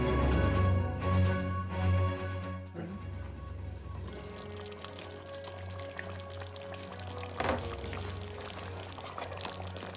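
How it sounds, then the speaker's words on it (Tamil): Fish pieces added to a simmering fish curry, with a loud pouring, splashing slide into the pot followed by quieter bubbling and light clatter, heard close. "இப்போ ஃபிஷ் ஆட் பண்ணிக்கோங்க."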